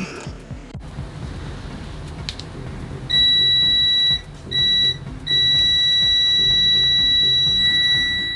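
A KJ103 multimeter's continuity-mode beep, high and piercing, sounds three times, the last held longest, loud and close at about 74.5 dBA over a noisy background with faint rustling.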